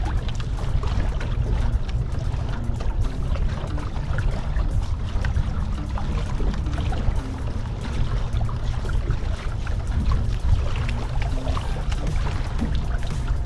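A sailboat on a broad reach across open water, with a constant loud rush of water along the hull and heavy wind buffeting the microphone, no voices.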